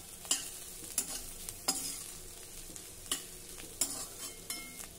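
Ivy gourd being sautéed with coarsely crushed roasted peanuts and coriander, a wooden-spoon stir scraping the pan in about eight separate clacks over a soft, steady sizzle, close and fairly quiet.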